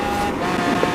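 A Lamborghini accelerates hard at high speed during a power test, giving a brief, loud, steady engine roar that holds a sustained tone throughout, close and without talking.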